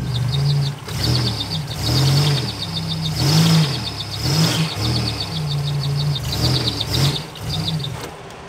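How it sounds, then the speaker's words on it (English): A Buick Grand National's engine idles roughly with a rhythmic stutter, its low drone pulsing unevenly at close range while a high chirping repeats above it, with no speech. "The engine mounts definitely are worn out, and it's got a stutter as well."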